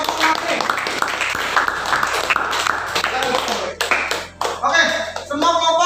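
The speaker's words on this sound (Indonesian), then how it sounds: "tepuk tangan untuk kelompok terakhir" A classroom of students claps together for the final group after their presentation, a dense, steady patter of many hands filling the room, with voices talking over it.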